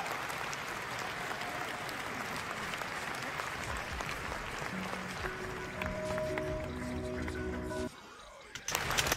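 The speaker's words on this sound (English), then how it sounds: "Take your applause." Audience applause after a live vocal performance of a film soundtrack: dense, sustained clapping that fades to near silence near the end before a final brief burst.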